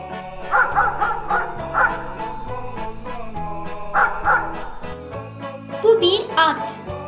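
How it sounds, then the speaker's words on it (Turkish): A dog barks several times in short bursts spaced apart, with light music playing underneath. "Bu bir köpek. Köpekler hav hav der."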